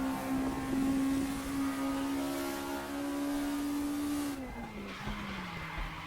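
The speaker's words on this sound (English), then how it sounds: "Oh, and another big lock-up going into Druids." Group 2 race car in RaceRoom locking its brakes into Druids at Brands Hatch, with a long sustained tire squeal over the engine drone that bends downward and fades as the car slows, with no talking.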